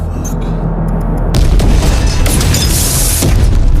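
A loud, booming blast erupts and rolls on into a sustained roar of rumbling noise.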